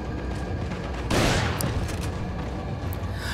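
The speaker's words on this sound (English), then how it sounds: "Let's break out the shotgun. This is too many enemies." Shotgun fire in Resident Evil 4, one loud booming blast followed by a few fainter sharp shots over background game noise, no speech.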